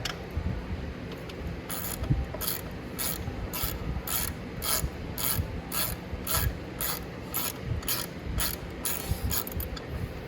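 Rapid rhythmic clicking of a ratchet wrench backing out a 10 mm bolt on a 1000W E-Racer electric ATV during a chain change, steady evenly spaced clicks over ten seconds, close and clear.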